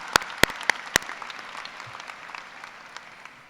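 A few loud, sharp claps ring out close by at a graduation ceremony, then thin out into faint, scattered applause that fades away.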